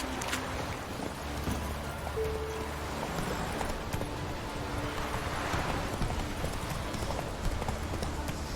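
Horse hooves from the video game The Witcher 3: Wild Hunt clip-clop in a steady, continuous rhythm throughout, close and fairly loud against a dense bed of game ambience.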